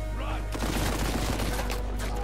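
Gunfire fills a combat scene in the PS4 game Uncharted 4: A Thief's End, where a wall has just been blasted with dynamite: a dense, loud fusillade of rapid shots over booming low rumble, with a voice talking over it.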